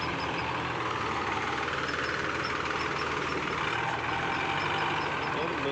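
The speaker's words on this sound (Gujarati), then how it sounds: "લોડરથી ભરે જો ખાતર" Tractor engine idles and rumbles steadily, close by and continuous, as a loader fills manure into a tractor trolley on a farm track beside a road; no clear voices stand out over the machinery.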